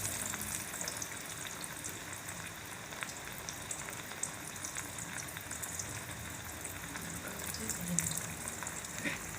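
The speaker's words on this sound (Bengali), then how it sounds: "তেলের মধ্যে পরোটা দিয়ে দিচ্ছি" Aloo paratha sizzling in hot oil in a pan, a steady, soft crackling hiss with occasional pops throughout, faint and continuous with no talk.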